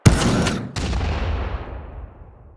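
Player gun sounds from a video game level, including shotgun, rifle, chain gun and rocket designs: two sharp, loud weapon blasts in quick succession, each trailing into a long booming decay.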